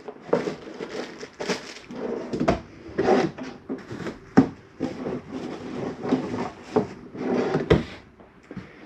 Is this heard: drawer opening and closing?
yes